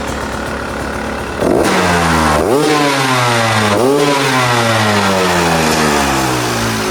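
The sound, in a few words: Beta 250 RE two-stroke motorcycle engine revving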